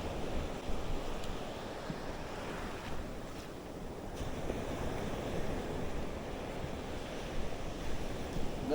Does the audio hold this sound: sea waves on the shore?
yes